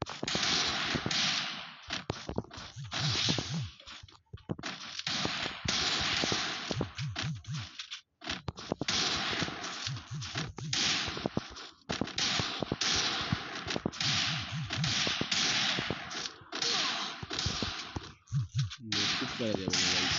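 Gunfire in the mobile game Free Fire rattles in rapid bursts and sharp single shots, loud and nearly continuous, while a player talks excitedly over the action.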